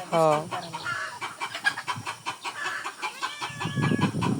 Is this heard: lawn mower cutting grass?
no